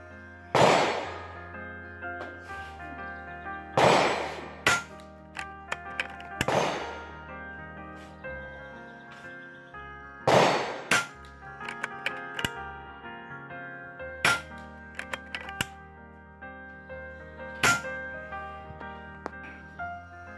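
Air rifle shots from a HUBEN K1 and an Edgun Lelya 2.0 firing JSB 18 grain pellets, five or six sharp, loud reports spaced a few seconds apart, each followed by faint ticks and clicks, with no talking.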